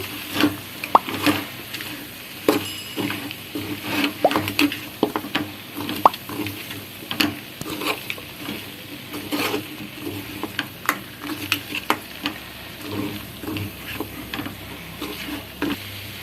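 Mutton fry stirred in a pan with masala powder and coconut powder: steady scraping, clicking spoon strokes over a soft sizzle, close and continuous with no talking.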